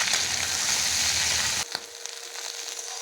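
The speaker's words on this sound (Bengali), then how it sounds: "ঢেঁড়সগুলো ভেজে নেব" Okra frying in mustard oil makes a loud, dense sizzle for about a second and a half, then a clatter and a softer, quieter crackle for the rest.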